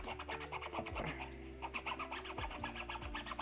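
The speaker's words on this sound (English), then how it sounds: "I want to reduce the sound as much as possible because I still need to sand." Sandpaper is worked over a wooden craft hammer in quick, repeated rasping strokes, close and continuous, over faint background tones.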